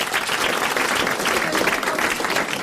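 Thick, continuous studio audience applause, many hands clapping at once in a loud, steady roar with no break.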